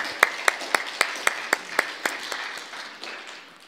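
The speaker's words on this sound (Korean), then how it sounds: "영광의 박수로 한번 올려드리겠습니다" A church congregation claps in unison, with about a dozen sharp, evenly spaced claps over a bed of scattered applause that thins out toward the end.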